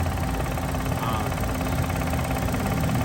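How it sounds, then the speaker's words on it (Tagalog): Knocking AC compressor on a Mitsubishi Montero Sport with a burnt magnetic coil, heard as a steady mid-pitched engine idle with rapid rattling knocks throughout, loud and close with no talk. "Kaya kumakalatok po yung compressor niya dahil ganyan na."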